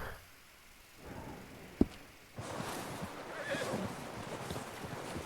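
A horse in the video game Red Dead Redemption 2 gives a short whinny, then its hooves clip-clop steadily and close, growing louder as it approaches.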